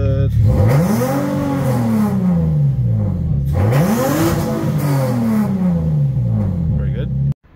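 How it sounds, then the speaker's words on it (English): Infiniti Q50 with a VR30 engine after a dyno retune, revving in repeated rising and falling sweeps, loud and close, then cutting off abruptly at the end. "the motor sounds pretty good. And idling is good."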